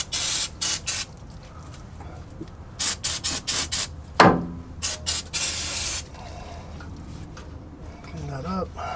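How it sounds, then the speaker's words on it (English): Brake cleaner sprays from an aerosol can onto a greasy upper control arm ball joint on a Land Cruiser 100 series, in a series of short, sharp hissing bursts with brief pauses, then a few faint clinks. "All right, that's a brake cleaner."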